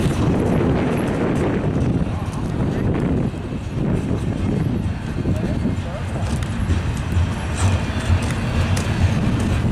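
An intermodal freight train rumbles steadily past close by, a continuous low roar with rattling wheels and clanking cars.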